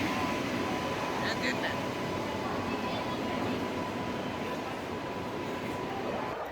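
A train rolls into Ujjain railway station, hauled by a WAP7 electric locomotive with LHB coaches; a steady broad rumble of wheels and platform ambience holds throughout, with a faint high tone and brief squeaks partway.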